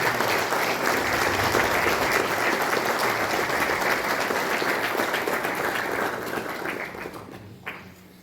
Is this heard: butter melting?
no